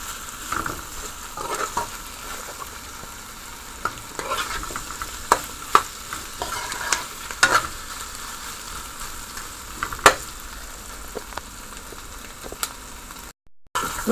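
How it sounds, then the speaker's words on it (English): Beef frying in a pan for a stir fry with cabbage, a steady moderate sizzle with occasional stirring scrapes and clinks, no talking. "So I'm going to let this fry down a little more."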